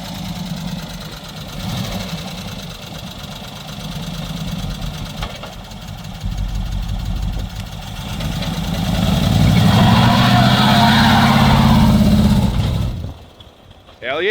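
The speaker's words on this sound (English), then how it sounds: "Do a burnout in the shit box." A worn-out old car's engine runs hard during a burnout attempt, a loud, sustained rough roar that swells and climbs toward the end before cutting off abruptly, with people talking over it.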